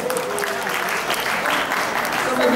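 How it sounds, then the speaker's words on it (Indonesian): An audience at a university appreciation event breaks into brisk applause, a steady, fairly close patter of many hands clapping that continues for a couple of seconds. "tepuk tangan"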